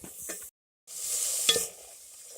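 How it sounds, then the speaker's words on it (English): Flour stirred into a wet, lumpy sauce in a pan for a chicken broccoli bake, close scraping strokes of a spoon with a short sizzle, broken by a brief silent gap. "we're going to add some flour to this that got a little bit wet, and stir this"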